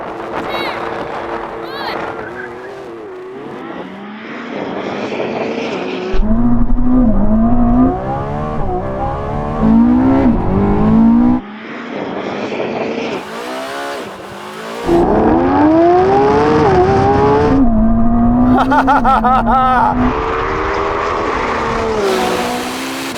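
Lamborghini Revuelto, Porsche 918 Spyder and Ferrari SF90 in a drag race, engines revving hard and climbing through repeated gear shifts, loud and close with rising and falling pitch.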